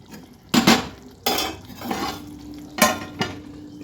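Eggplant curry is stirred in a metal pot with a utensil, giving a few loud, close clanks and scrapes spaced about a second apart, followed by a lid knock as the pot is covered.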